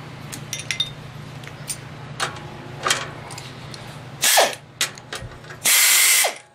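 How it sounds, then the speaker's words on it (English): A ratchet wrench does the final tightening of the main bolts on a tilting wind turbine, giving bursts of clicking and loud metallic ratcheting. A steady low hum runs underneath. "We're gonna do the final tightening of the main bolts."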